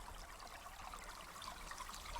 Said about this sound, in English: we dug a little bit deeper and managed to open up a bit of a stream, and it's this beautiful fresh water that we have now